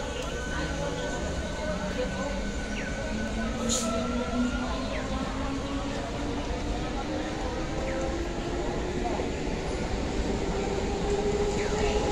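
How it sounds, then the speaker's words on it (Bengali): A Howrah–Katwa local train rumbles steadily through platform 3 at Chandannagar railway station, loud and near, with a long rising tone and rail squeals, while people talk over it. "37917 up Howrah Katwa local Chandannagar rail station platform number 3"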